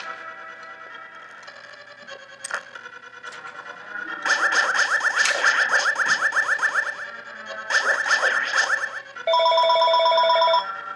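An electronic telephone ring in the video game A Link to the Past: pulsing chirps and rapid warbling trills with an echoing quality, ending in a steady repeated beeping tone.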